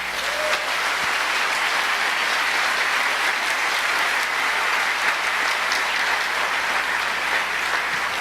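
Steady, dense applause from a church congregation at a discipleship congress, filling the whole stretch as a continuous wash of clapping with no voices over it.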